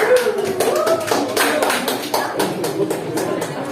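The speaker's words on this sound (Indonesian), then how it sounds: "Tepuk tangan untuk kelompok 3." Students in a classroom clap for a student group after its presentation, a short burst of close, sharp hand claps with a loose, uneven rhythm.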